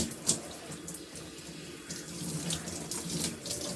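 Running water pours steadily over hair being rinsed under a tap, a close, continuous splashing hiss with small irregular surges and no talking.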